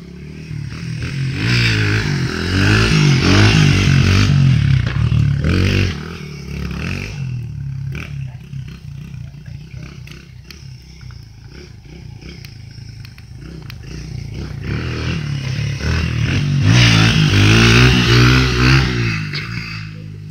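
A small motorcycle ridden nearby, its engine revving loudly at first, easing back through the middle, then rising to a strong roar again, with some clattering.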